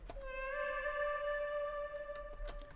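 A high, sustained pitched-up synthetic vocal tone with bright harmonics, made with FL Studio stock plugins, hangs over a reverberant wash with delay and pitch modulation, ending with faint echoing taps.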